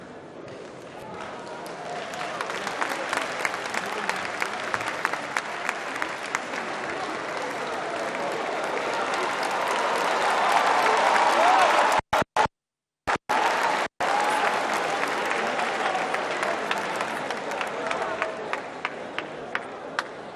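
Audience applause at a tribute to a Congolese singer in Abidjan, dense sustained clapping from a large crowd that swells over about twenty seconds, briefly cut by a few dropouts, with cheers mixed in.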